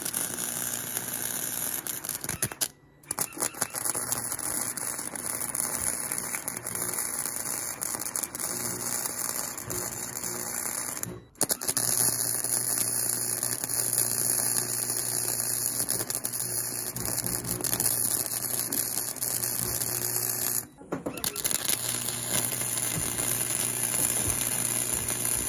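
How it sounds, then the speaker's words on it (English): Welding on a DIY solar panel ground mount frame, a continuous crackling, rain-like arc sizzle over a steady hum that cuts out in brief pauses at about three, eleven and twenty-one seconds before resuming. "Let's get this guy welded up pretty good here"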